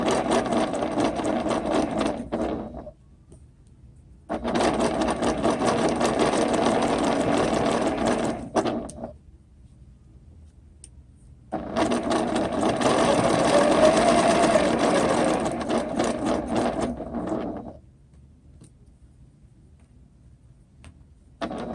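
A sewing machine stitches an interlocking seam in loud, steady bursts of rapid mechanical whirring, three long runs separated by short quiet pauses, close and alone with no voices.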